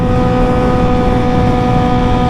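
A steady, loud engine drone with a deep rumbling tone runs continuously throughout from a Yamaha R6 motorcycle with an SC Project exhaust, with no speech over it.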